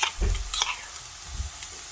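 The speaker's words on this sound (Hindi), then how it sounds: "इसको भी हल्का सा फ्राई कर लेंगे।" Soft sizzling of crushed garlic and ginger frying in oil, with a few stirring scrapes near the start, quiet and close.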